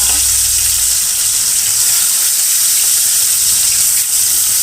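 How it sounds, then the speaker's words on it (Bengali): Fish fry in hot oil in a kadai, a loud, dense, continuous sizzle with no pauses. "দেখতেই পাচ্ছেন এখন মাছগুলো ভেজে নিচ্ছি"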